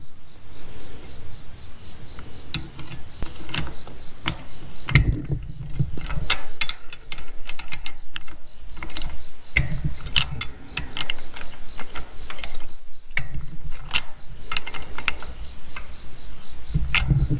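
A ratchet wrench tightening the hitch ball nut on a trailer hitch gives repeated clicking pawl ticks in bursts, close and distinct, with brief pauses between strokes and no talking.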